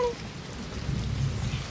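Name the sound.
rain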